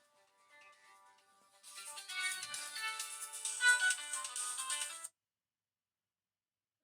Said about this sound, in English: Telephone's ringing.